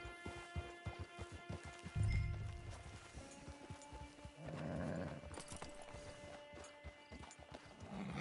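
Horse hooves clip-clopping in Red Dead Redemption 2 Online, a steady rhythmic run of close hoofbeats with a brief snort partway through, quiet under faint game ambience.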